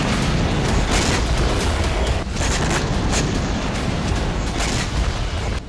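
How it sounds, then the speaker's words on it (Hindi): Dense, continuous rumbling booms and crackling blasts roll on without pause around a hospital in Gaza, loud and chaotic, like heavy explosions and rockets nearby. "अस्पताल के आसपास लगातार धमाके हो रहे"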